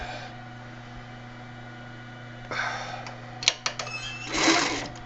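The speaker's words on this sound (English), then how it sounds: "And then we're going to back stitch it." A sewing machine back-stitches a fabric gusset. A steady low motor hum runs first, then short, close, loud bursts of stitching come with brief stops in between.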